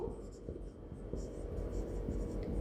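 A teacher writes an accounting entry by hand during a commerce lecture, giving faint scratchy strokes that come and go under quiet background talk.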